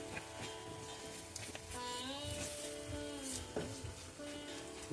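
Chili, coriander, pepper and turmeric powders sizzle in hot oil for a fish curry, a steady close frying hiss with occasional stirring scrapes and no talk.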